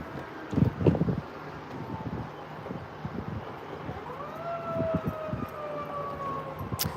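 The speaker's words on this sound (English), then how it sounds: "also we got now a siren going" A wailing siren rises and sweeps in pitch at a distance in Fredericton streets, heard over wind noise and rustling, with a couple of louder thumps near the start.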